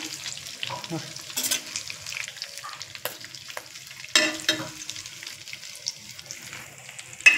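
Stuffed capsicums sizzle and fry in a covered kadhai as they are turned over, with soft scraping and clatter of a utensil against the pan and a few sharper knocks over a steady background sizzle.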